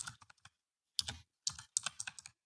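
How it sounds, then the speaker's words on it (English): Loud computer keyboard typing, close bursts of sharp rapid clicks separated by brief silent pauses, with no other sound. "get a different keyboard because that is ridiculously loud"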